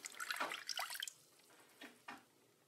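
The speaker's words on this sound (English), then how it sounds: "We'll just pour a little bit in here. And let's add this water." Water poured into a container for a homemade snowball squishy, heard as a few brief splashy trickles at close range, with quieter gaps between the pours.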